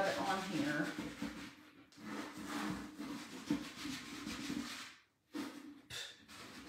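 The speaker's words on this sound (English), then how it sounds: "you could actually take the chalk and rub it on here." Chalk is rubbed across a wooden Halloween decoration in close, scratchy strokes that come in uneven bursts with short pauses, while someone talks quietly in between.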